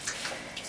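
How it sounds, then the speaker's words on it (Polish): Hot, pre-heated water being poured into a cooking pot: a steady, close, splashing stream with no pauses across under a second, and no talk. "Nalewam gorącą, zagrzaną wodę."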